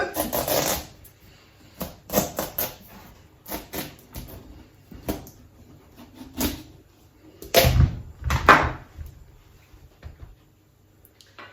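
A knife cuts through a potimarron (red kuri) squash to halve it, giving a series of sharp, crisp cracking and scraping strokes of varying loudness with quiet gaps between them, close by.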